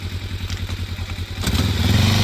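A motorcycle on a safe-riding training course runs close by, its engine thrumming in a low pulsing rhythm before the tone shifts and grows louder and fuller for the last second, with light clatter alongside.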